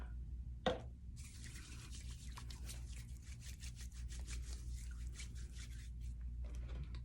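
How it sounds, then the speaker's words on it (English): Hands being rubbed together while sanitizer is worked in during a basic facial, a soft continuous swishing friction lasting several seconds after a brief click, close and fairly quiet over a low hum. "So I'm going to sanitize my hands."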